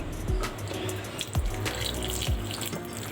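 Water is added to ready-made peanut sauce in a bowl: a continuous close wet sloshing and pouring, with a few soft low splashy thumps as it mixes.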